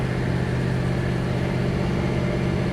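Steady hum of a 1940 Ford Deluxe sedan engine while driving, a low droning rumble with constant road noise and no talking.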